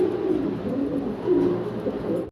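Cream bar German Beauty Homer pigeons at a pigeon farm, cooing close and steadily in a continuous low murmur with no talk.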